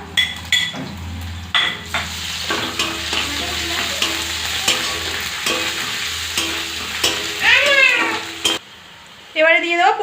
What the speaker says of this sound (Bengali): পেঁয়াজটা ফ্রাই হয়ে গিয়েছে, এবারে দিয়ে দেবো রসুন বাটা